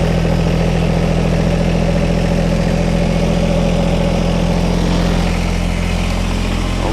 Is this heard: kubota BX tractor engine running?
yes